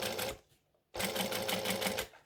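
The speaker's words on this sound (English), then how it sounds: "I'm just stitching on the line nice and slowly" A sewing machine stitches along a line on a fabric pouch at a 3 3/4 stitch length, running in two bursts of steady, rapid mechanical whirring split by a short pause, close and loud.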